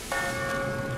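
A bell in the video game Sky: Children of Light rings once, its bright sustained chime holding steadily over a soft background wash.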